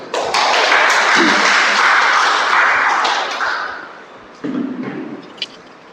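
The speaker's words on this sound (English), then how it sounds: "Round of applause for Kevin, please." A meeting audience applauds a toastmaster walking up to the stage, a loud, close burst of clapping that fades after a few seconds, followed by a couple of isolated thumps.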